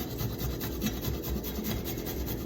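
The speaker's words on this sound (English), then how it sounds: "So I've got my planer to grate the ginger, and I've got, you know, a little piece here, and I'm going to grate some of that in there." Fresh ginger scraped across a planer-style grater, a steady close rasping and rubbing that continues without pause and with no voices.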